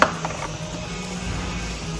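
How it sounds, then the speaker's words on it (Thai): A knife dices taco ingredients on a board in a home kitchen, giving a few quick, close chopping taps over a steady background hum. "หั่นเป็นเต๋าแบบนี้ค่ะ"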